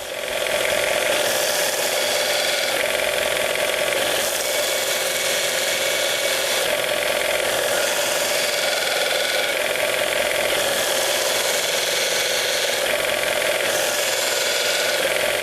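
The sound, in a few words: sharpening a woodturning skew chisel on a grinder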